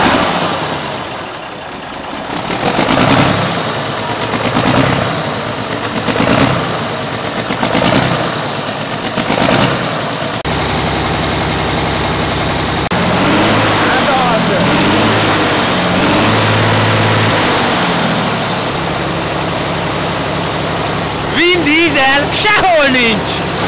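A Győr-built Rába Steiger giant tractor, a 12.5-tonne all-wheel-drive machine with a 250 hp, 10,300 cc engine, runs loudly and steadily with a deep pulsing rumble. A voice talks over it.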